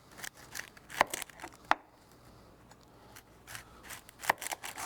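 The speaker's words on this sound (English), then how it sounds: "Just do a quick peel on this onion." An onion is peeled by hand in a kitchen, giving scattered crisp tearing and crinkling snaps of dry skin with quiet rustling between them.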